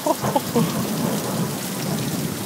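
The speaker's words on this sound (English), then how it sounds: "it's just pouring rain" A thunderstorm at night with heavy pouring rain, a dense steady hiss of rain overlaid by low rumbling thunder.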